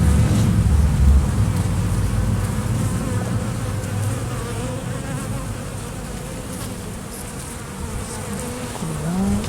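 Honeybees drone continuously around an opened hive in a colony that had been attacked by Asian hornets, a dense, close and loud buzz that holds steady with no talking.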